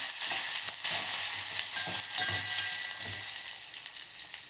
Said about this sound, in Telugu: అండ్ కరివేపాకు వేసి వేయించచ్చు